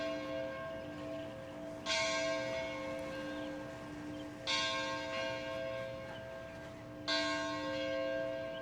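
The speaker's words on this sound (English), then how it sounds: "That bell's ringing." A church bell rings out in the town of Marion, Illinois, striking three times at slow, even intervals, each toll sustaining a bright humming ring that lingers between strikes at a moderate distance, with no voices.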